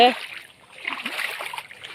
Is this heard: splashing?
yes